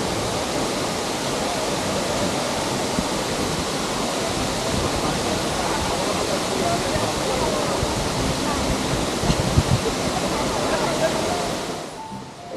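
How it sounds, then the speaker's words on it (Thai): Wachirathan waterfall in Chiang Mai roars as a steady, loud broadband rush of falling water, continuous and unchanging for the whole stretch before cutting off near the end. "เราอยู่ที่ น้ำตกวชิรทานนะครับ"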